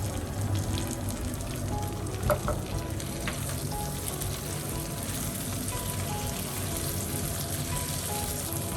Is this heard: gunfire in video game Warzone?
no